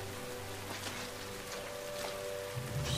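Steady rain falling on a muddy wartime jungle camp in the TV drama The Pacific, a continuous hiss of drops with a low rumbling bed, no voices.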